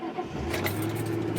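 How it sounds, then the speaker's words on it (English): A car engine cranks and catches after a brief quiet moment, then settles into a low, close running rumble. "Love this car. Starts up first time, every time."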